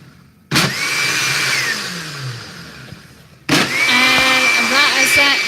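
A countertop blender whirs loudly in two long bursts, mixing Cambridge Weight Plan 1:1 Diet mousse; the motor starts abruptly, runs steadily with a rising whine, stops, then starts again for a second run.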